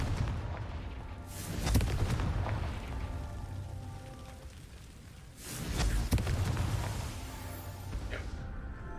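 Two booming Confringo spell blasts in Hogwarts Legacy, each a sharp crackling burst that rolls off into a noisy rumbling tail, the pair spaced about four seconds apart, no voices.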